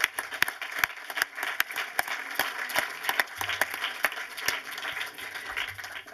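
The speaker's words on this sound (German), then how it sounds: "Auch Ihnen ein herzlicher Applaus." Audience applause at a film event in Germany, with individual sharp claps standing out over a softer crowd clapping, steady and moderately close, tapering slightly toward the end.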